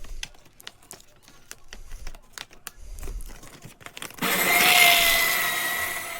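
Calendar pages being fed into a home paper shredder: scattered rustling and tapping of paper being handled, then the motor kicks in with a loud, steady whirring grind as the sheets are shredded.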